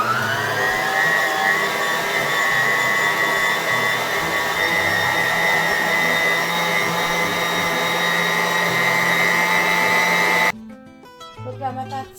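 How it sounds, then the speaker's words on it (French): A mixer kneads soft, sticky matlouh bread dough in a bowl with a steady, loud motor whir for about ten seconds, then cuts off, leaving a few quieter knocks and shuffles. "Et je vais remettre à pétrir au moins pour 5-10 minutes."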